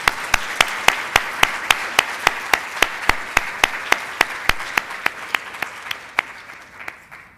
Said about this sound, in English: Maybe we can have a big round of applause for our panelists.